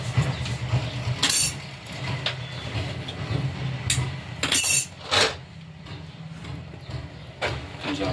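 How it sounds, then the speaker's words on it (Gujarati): Cut potatoes go into a pressure cooker for boiling in a home kitchen, with a few sharp metallic clinks and clatters over a low steady hum. "કુકરમાં બટેટા મૂકી દેવા બાફવા માટે."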